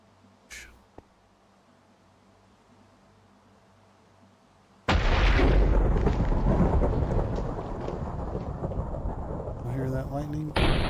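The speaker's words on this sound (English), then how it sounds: "You hear that lightning?" Thunder from a lightning strike in Minecraft Bedrock, a sudden loud crack after a quiet stretch that rolls on as a heavy sustained rumble, with faint voices at the start.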